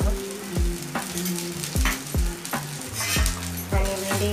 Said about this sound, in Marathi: भेंडी चांगली भाजून घ्या, त्यामुळे तुमची भेंडीची भाजी चमचमीत होईल